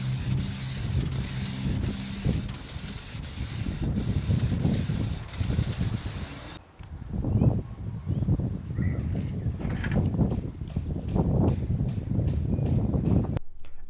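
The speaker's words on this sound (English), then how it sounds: "I need to sand those out, and the glue around the edge there where we repaired the fretboard from the inlay" Sanding by hand on a guitar fretboard to remove scratches and leftover glue from an inlay repair, a steady rasping scrub with rhythmic strokes, close and loud, switching to shorter, choppier strokes partway through.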